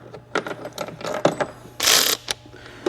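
A ratchet wrench tightens bolts to factory torque on a Volkswagen Routan, a series of quick close clicking bursts and metallic ratcheting with a short louder rasp near the end, no speech.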